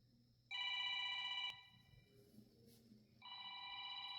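A telephone rings in two bursts of a bright electronic trill, the first about a second long and the second starting after a gap with faint background sound. The ringing is loud, close and alone, with no talk over it.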